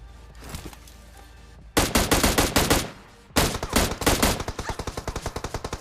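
Gunfire in the mobile game PUBG Mobile: two loud bursts of rapid automatic shots close by, each sharp and rhythmic, the second longer and fading toward the end, with no talking.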